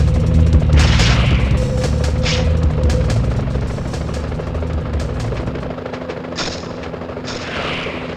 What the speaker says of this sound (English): police choppers.